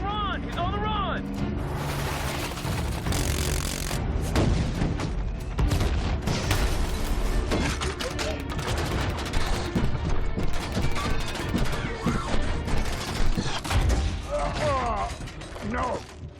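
Missile launches and gunfire in a Transformers: Age of Extinction battle, a dense, loud wall of blasts, booms, clanking machinery and crashes throughout, with voices shouting over the din.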